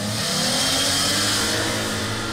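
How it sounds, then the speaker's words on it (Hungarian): A car engine roars loudly and steadily, revving hard throughout with a dense, high-pitched mechanical howl close by. "Üvölt a motor."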